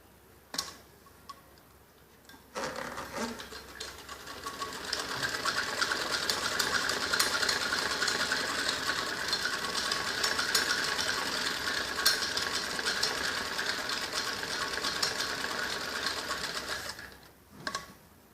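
A sewing machine runs a straight seam on a child's top, its fast, even mechanical ticking holding steady for about fourteen seconds on its own before stopping, with quiet pauses before and after.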